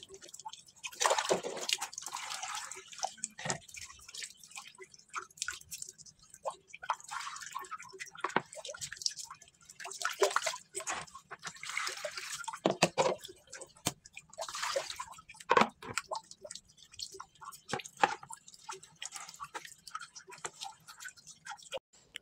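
Water trickles and drips from a spring that has weakened after the dry season, with soft irregular splashes and ticks heard close, rising and falling in bursts over a quiet background.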